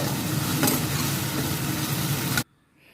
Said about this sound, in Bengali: প্রথমে আমি শুকনো মাছকে আমি ভেজে উঠিয়ে নিব লাল লাল করে